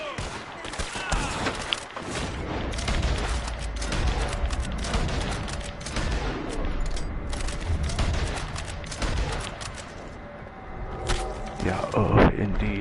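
Rapid video-game gunfire rattles in dense volleys almost throughout, loud and close, with bursts of automatic fire and a few heavier booms near the end.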